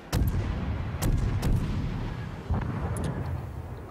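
Heavy cruiser-style guns of the tier 3 Japanese cruiser IJN Tenryu firing armor-piercing shells in World of Warships, several booming salvos spaced about half a second to a second apart, loud and close with rumbling tails and no talk.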